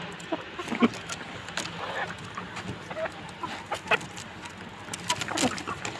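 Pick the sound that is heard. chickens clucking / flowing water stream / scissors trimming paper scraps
chickens clucking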